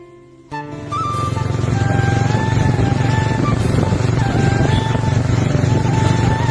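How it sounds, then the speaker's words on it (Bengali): A motorcycle engine fires up after a brief quiet moment, then holds a loud, steady throbbing idle close by. "তোমরা একবার এই বাইকটার সাউন্ড শোনো"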